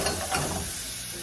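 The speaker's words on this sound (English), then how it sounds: "Then you start adding in milk, but very slowly. So just like slowly and stir" A spoon stirs a browned mixture in a pan as milk is slowly added, giving a brief, close, soft sizzle and scraping with no talk.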